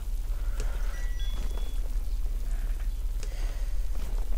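Steady rain falls in the video game Last Knight Rogue Rider, a continuous even hiss over a low constant hum, with no voices.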